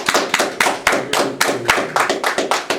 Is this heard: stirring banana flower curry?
no